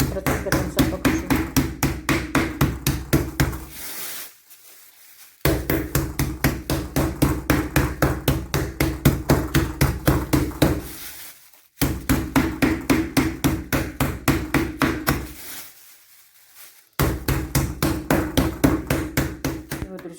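Chicken meat pounded flat with a mallet in a home kitchen: rapid, steady rounds of loud, close thuds, with short pauses between bursts.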